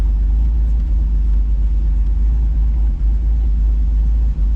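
A car engine runs on old fuel in a deep, steady idle rumble, close and loud, with a few slight dips in the rhythm.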